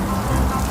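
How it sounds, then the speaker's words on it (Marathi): Rain falls in a dense, steady pitter-patter on a surface, loud and close, a brief continuous spatter with no voices. "पावसाचे दिवस चालू होते, त्यामुळे टप टप पाऊस पडत होता आणि सोसायट्याचा वारा सुटला होता."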